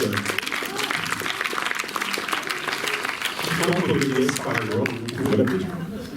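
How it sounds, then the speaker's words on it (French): Audience applause at a film festival screening in Montreuil, a steady wash of many hands clapping in a room, with a voice speaking over it throughout. "on peut applaudir Dominique."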